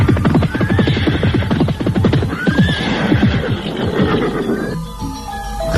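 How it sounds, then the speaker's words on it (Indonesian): Horses in an audio drama, with dense, continuous hoofbeats and repeated whinnies filling the scene at close range and holding steady throughout. "terdengar derap orang-orang berkuda semakin lama semakin dekat"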